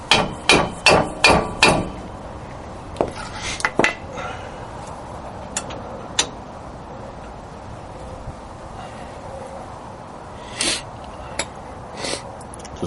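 A hammer taps on a wheel hub assembly: a quick burst of five or six sharp metallic knocks, then scattered single and paired taps spread over several seconds, close by, with quiet gaps between them.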